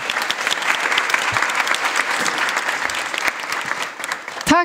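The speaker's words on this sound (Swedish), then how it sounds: "Så stor applåd till alla er och till alla oss." Audience at a city future info day event claps in sustained, even applause with scattered louder claps, and a voice briefly rises near the end.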